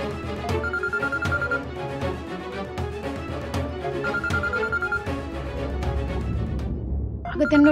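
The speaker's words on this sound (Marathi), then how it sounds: "नमिता मॅडमचा फोन आलाय" A telephone rings indoors in a Marathi TV serial scene, its tone repeating steadily in several bursts over a busy background before stopping near the end.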